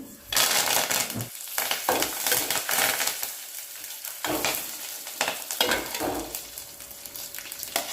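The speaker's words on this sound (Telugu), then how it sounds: "ఇప్పుడు ఆవాలు, కరివేపాకు, జీలకర్ర కూడా వేసుకొని కలబెట్టుకోవాలి" Mustard seeds, curry leaves and cumin stirred in a hot pan after urad dal, tempering for jowar rava khichdi: loud crackling sizzle with irregular scraping stirs and brief pauses, close and without talk.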